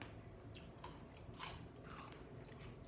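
Someone bites into and chews a tart apple, producing a few crisp crunches close to the mouth, with the loudest bite about halfway through, over a steady low background hum.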